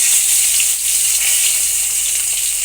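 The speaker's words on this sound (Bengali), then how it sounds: "আমি এদিকে ফোড়ন দিয়ে দিচ্ছি এখানে গোটা গরম মশলা দিয়ে দিলাম ফোড়নে আস্ত জিরে" Whole garam masala, cumin seeds, a dried red chilli and two bay leaves tempering in hot oil, a loud, steady, even hiss close up with no talking.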